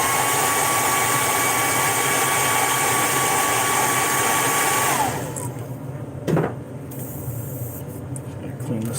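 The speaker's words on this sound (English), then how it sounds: "Just gonna heat set that real quick." A heat gun blows a steady, loud whooshing roar while heat-setting a fishing lure, then it is switched off and winds down, leaving a quieter background with a few small handling knocks.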